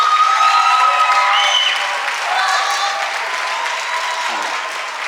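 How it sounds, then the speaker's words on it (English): A large crowd applauding at an 8th grade graduation ceremony, sustained clapping that starts strong and tapers slightly, with some cheering mixed in. "Let's first give a round of applause to our 2023 graduates."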